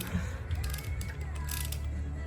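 A ratchet wrench clicks while loosening truck bolts torqued to 65 foot-pounds, a faint mechanical ratcheting over a steady low hum and background noise.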